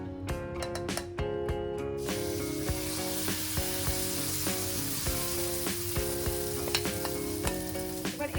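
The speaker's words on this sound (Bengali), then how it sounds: "এবার লো ফ্লেমে রেখে এবার আমি আরেকটু ব্যাটার দিয়ে দেব" Batter for a chicken-filled tiffin snack sizzles steadily in a hot brushed pan over a low flame, a close continuous crackling hiss with occasional light clicks and scrapes, no talking.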